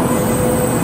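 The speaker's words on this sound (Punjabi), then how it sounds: "ਟ੍ਰੇਨ ਆ ਗਈ ਆ" A bullet train pulling into a station in Japan, a steady loud rumbling roar with a high whine, close and continuous with no talk.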